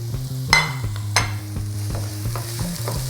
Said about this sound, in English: The onions need time to caramelize, so we put them in first.